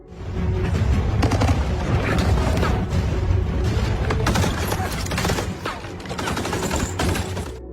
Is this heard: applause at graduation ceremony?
no